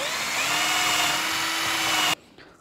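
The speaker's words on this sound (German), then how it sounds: "nehmen wir einen Bohrer, bohren einmal hier komplett durch." A power drill bores a hole straight through a wooden piece for a homemade mini foosball table. It whines steadily and loudly for about two seconds, then cuts off abruptly.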